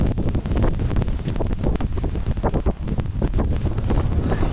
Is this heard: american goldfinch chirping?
no